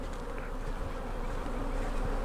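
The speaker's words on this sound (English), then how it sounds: "I'm going to grab a couple of these frames that have a lot of nurse bees on them." Honey bees hum in a dense, steady drone as frames crowded with nurse bees are lifted from the hive, the buzzing close and continuous without pause.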